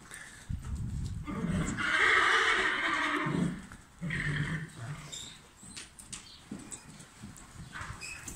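A horse trots during a training session, with hoofbeats and a loud, drawn-out whinny close by early on, followed by quieter hoof sounds and stirring.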